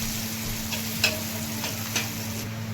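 Potatoes sautéing in oil with golden fried onions, mustard seeds and turmeric on a tawa, an even close sizzle with a few soft stirring scrapes and no voices.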